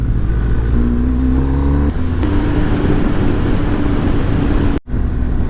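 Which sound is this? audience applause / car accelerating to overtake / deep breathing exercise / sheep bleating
car accelerating to overtake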